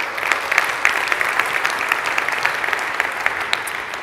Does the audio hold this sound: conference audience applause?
yes